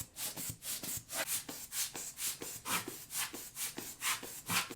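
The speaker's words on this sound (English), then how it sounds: "The first side will always get the power cleaner." A vinyl record being scrubbed with a power cleaner: rhythmic back-and-forth brushing strokes, about four per second, soft and close, each a short hissing rub with no voices.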